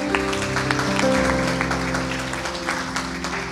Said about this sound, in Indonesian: Kita sama-sama berikan aplaus.